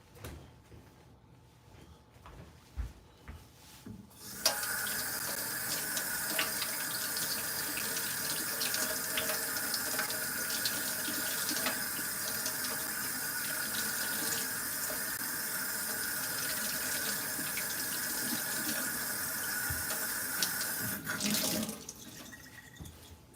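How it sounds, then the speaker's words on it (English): Tap water runs steadily into a kitchen sink as tomatoes are washed, a loud continuous splashing rush that starts after a few quiet seconds and stops abruptly near the end. "Let's wash some tomatoes."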